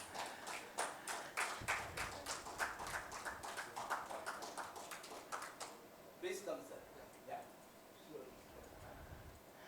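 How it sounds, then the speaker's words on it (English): An audience at a formal event claps to welcome a chief guest, sharp rhythmic claps at first in a regular pulse, then thinning into scattered, fainter claps and background sounds. "Let's give him a warm, warm round of applause, please."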